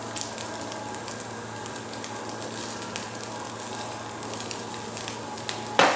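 Prawns seasoned with smoked salt and piment d'Espelette sizzle steadily in a hot pan, with scattered small pops and crackles and a louder burst of spattering right at the end.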